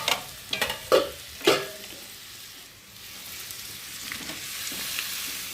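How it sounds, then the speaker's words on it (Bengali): Fried pointed gourd is stirred back into a frying pan for a soybean curry: a few sharp metallic clanks of the utensil early on, then a faint, steady sizzle that lingers softly. "নেড়ে ছেড়ে এবার দিয়ে দেবো ভেজে রাখা পটল"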